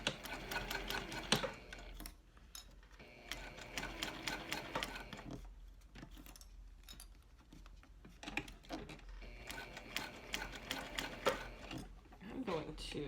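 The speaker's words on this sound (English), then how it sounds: "I'm gonna backstitch really well at starting and stopping" A sewing machine runs in rapid clattering bursts while backstitching a seam on a Trekoda mini backpack, pausing and restarting at the seam ends, faint and close, with quiet talk in the gaps.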